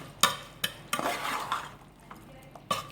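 Thai pork larb with toasted rice being stirred in a pan or bowl, with sharp utensil clinks and scrapes at irregular intervals between softer mixing swishes, close and without speech.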